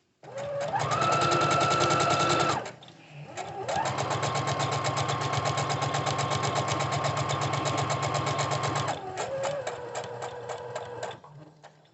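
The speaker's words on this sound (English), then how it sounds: "Don't worry about sewing fast, sew straight." A sewing machine runs a seam on a pencil roll in steady, fast mechanical stitching, close and loud, pausing briefly near the start and again near the end for a short back stitch.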